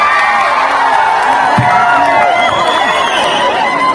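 A large crowd at a Bihu stage show for a singer roars and cheers in a loud, continuous wash, with whoops and shouts rising over the din.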